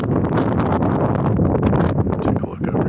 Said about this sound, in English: It is windy and cold out here.